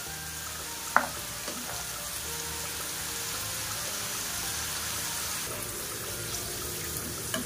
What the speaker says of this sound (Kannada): ಇದನ್ನು ಚೆನ್ನಾಗಿ ಕಲರ್ ಚೇಂಜ್ ಆಗೋವರೆಗೂ ಹಾಗೆ ಕ್ರಿಸ್ಪಿಯಾಗಿ ಬರೋವರೆಗೂ ಚೆನ್ನಾಗಿ ಎಣ್ಣೆಯಲ್ಲಿ ಫ್ರೈ ಮಾಡ್ಕೋಬೇಕು